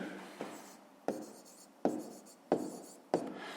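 Pen strokes on paper while a fifth-grade math exercise is written out, five distinct scratchy bursts at roughly even intervals, close and fairly quiet, with no voices.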